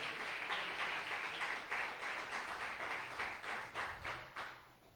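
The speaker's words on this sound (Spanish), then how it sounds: "¿Cuántos le pueden dar un fuerte aplauso al Rey?" Church congregation applauding during a pastor's sermon, a moderately faint wash of clapping with rhythmic surges rising and falling over several seconds.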